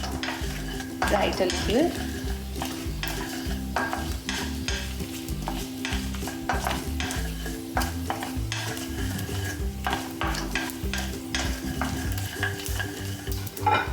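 Black mustard seeds fry and sizzle loudly in a pan, a constant crackling hiss broken by repeated scraping stirs close by; a brief spoken remark comes early.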